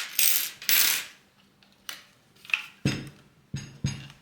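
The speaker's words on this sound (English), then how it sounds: "Here we need to pull this lever to install one of these blades." The blade lever on a Parkside Performance 20V cordless jigsaw is pulled and released, producing a series of close plastic and metal clicks, snaps and ratcheting clacks, several distinct mechanical knocks spread over a few seconds.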